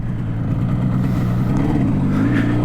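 A 1973 Yamaha RD 250 two-stroke motorcycle on a test ride, its engine droning steadily and loudly with a buzzy mid-range tone throughout, no voices.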